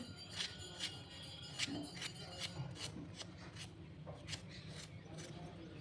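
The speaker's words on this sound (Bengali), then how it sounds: "এবারে চামচ দিয়ে খোসাটাকে হালকা করে উপর থেকে ঘষে ঘষে তুলে নেব" A spoon scrapes the thin peel off a pointed gourd in short repeated rasping strokes, close and fairly quiet, with faint background noise.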